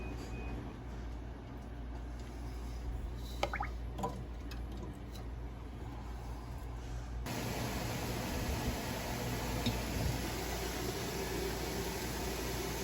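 Water coming to a boil in a hot water bath canner holding jars of crab apple jelly: a steady, close hiss that swells and thickens partway through, with no talking.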